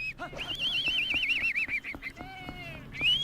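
A cartoonish bird honks and warbles in The Legend of Zelda: Twilight Princess on GameCube, a wavering high call followed by shorter honks, with faint game sounds and a brief voice underneath.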